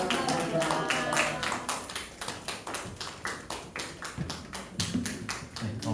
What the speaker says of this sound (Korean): 네, 들어가실 때까지 박수하겠습니다.